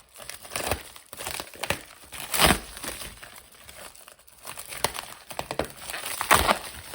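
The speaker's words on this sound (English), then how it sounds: "This is really jammed in here, so I don't want to damage it. Let me cut this open carefully." Tightly packed shipping package of pens being cut open, with close, crisp crinkling and tearing of packaging in bursts and a few sharp rips, with no talking.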